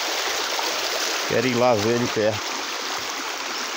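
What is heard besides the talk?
flowing stream swollen after heavy rain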